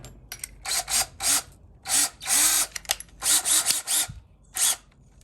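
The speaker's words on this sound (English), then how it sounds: "And then I'll drill my hole." Power drill pre-drilling a hole through a plastic kayak hull, heard as a series of short whirring bursts that rise and stop, close and fairly loud, with quiet pauses between them.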